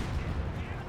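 Heavy booming 120mm mortar fire in the WWII strategy game Company of Heroes 2, a short rumbling low blast filling the brief moment with no distinct separate shots.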